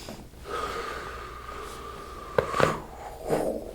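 During a chiropractic adjustment, a person draws a deep, audible breath in, then gives a sharp, sniffing exhale with a couple of quick snort-like bursts, close and clear, followed by another softer breath.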